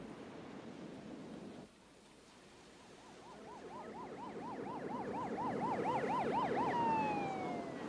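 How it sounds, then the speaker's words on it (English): An ambulance siren wails in a rising and falling pattern over a steady ocean-surf wash, growing louder as it approaches, then drops to a steady tone near the end. "An ambulance was immediately dispatched, along with a specially trained volunteer water rescue squad."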